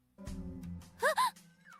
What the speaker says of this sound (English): Mihono Bourbon just had a little gasp